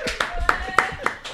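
Scattered applause from an audience, a few sharp hand claps spaced irregularly through a short stretch, with a voice talking over them.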